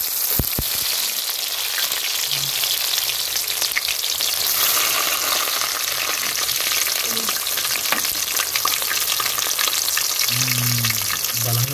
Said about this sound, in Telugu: ఇంకా నూనె అయితే కాగింది. ఉల్లిగడ్డలు పచ్చిమిరకాయలు కరివేపాకు వేసుకుందామండి.